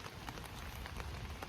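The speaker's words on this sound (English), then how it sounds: "and it's starting to rain." Rain patters on a tent at a campsite near the Kennebec River on the Appalachian Trail, a soft, close, continuous drumming of irregular drops with no voices.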